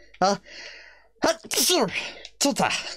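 A single sharp sneeze bursts out close to the microphone during a Dragon Ball Xenoverse 2 gaming session, followed by a short pause and then lively nearby talking.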